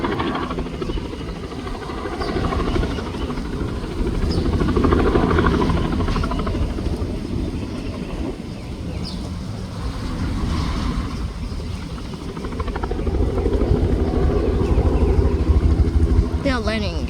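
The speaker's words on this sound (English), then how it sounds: "Why is the helicopter landing" A Bell 206 helicopter lands close by without a helipad, its loud rotor and engine noise swelling and easing steadily throughout while people talk over it.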